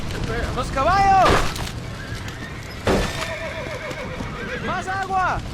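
In a Red Dead Redemption game scene at a burning barn, panicked horses whinny loudly three times, with hoof clatter and crashing debris under a constant background roar.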